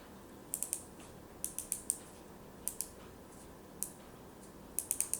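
A Precista PRS-11 diver watch's unidirectional 60-click bezel is turned, giving quiet bursts of crisp, tiny ratcheting clicks in small clusters of two to four, separated by short pauses.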